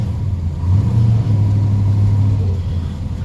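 A car engine with a newly fitted clutch rumbles and revs while driving, a loud, close, steady low drone that swells briefly near the start and holds throughout without talking.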